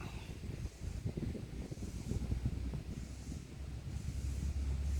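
Wind blows outdoors through a banana garden of green Cavendish banana plants, a steady rough buffeting rumble against the microphone that continues throughout with no talk.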